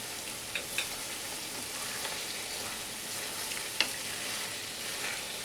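Spices with ginger paste and coriander powder sauté in a pan for a ridge gourd and coconut curry, making a dense, even sizzling hiss with a few soft ticks of stirring, close and steady throughout.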